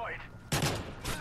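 A Type 95 burst rifle in Modern Warfare 3 fires a quick, sharp burst of rounds close by, following a brief stretch of someone talking.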